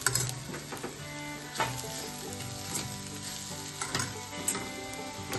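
Ingredients for sabudana khichdi sauté in a pan, giving a steady sizzle punctuated by repeated stirring scrapes and light utensil knocks at close range.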